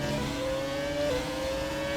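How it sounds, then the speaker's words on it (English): Turbo engines of racing cars in the F1 2017 racing game, driving a Red Bull RB6, hum as a steady whining drone with a pitch shift midway, heard at moderate level. "Hear those turbo engines singing away."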